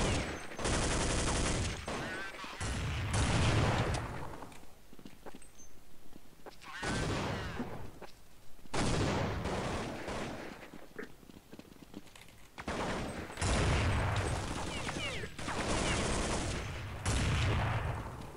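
Automatic and rifle gunfire in Counter-Strike 1.6, loud dense bursts of rapid shots repeating in several volleys with brief pauses between them.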